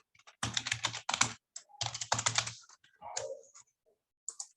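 Rapid bursts of close keystrokes on a computer keyboard as a password is entered, clattering in quick clusters with brief pauses between them.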